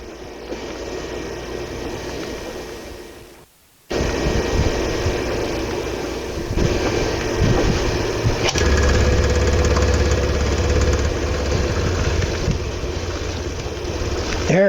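An outboard boat engine fired up after fresh gas was added: a brief cut, then the motor catches and runs steadily with a loud, continuous droning rattle and a deeper throb joining later, no voices.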